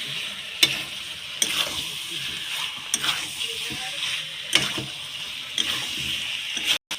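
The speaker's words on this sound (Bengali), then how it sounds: "এবার ভেজে রাখা আলুগুলো দিয়ে দেব, দিয়ে আবার কষিয়ে নেব।" Fried potatoes and meat curry sizzle and are stirred in a pan, with a steady frying hiss and regular scraping strokes close up.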